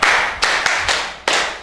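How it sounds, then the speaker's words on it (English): A classroom gives a short round of hand clapping after a geometry lesson answer, with a few distinct loud claps or bursts spread over under two seconds and no talking. "Clap hand for him."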